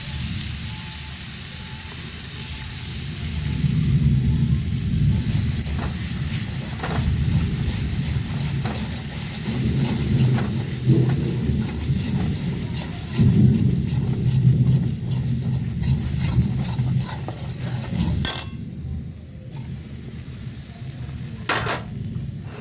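Stuffed pointed gourd pakoras with turmeric and a little yogurt frying in oil, a loud continuous sizzle with stirring scrapes and occasional clinks, no talking.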